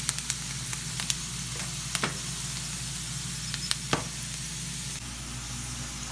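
Dough frying in hot oil for Moroccan Ramadan iftar pastries such as msemen or chebakia, a steady low sizzle with scattered soft knocks and clicks, fairly quiet and close, no voices.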